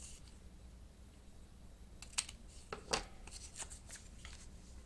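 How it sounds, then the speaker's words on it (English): Scissors trimming a cardstock coin envelope flap while making handmade envelopes: a couple of short, crisp snips close by over a quiet room, with light paper handling around them. "I'm going to just go ahead and close this down, and I'm just going to trim off ever so slightly."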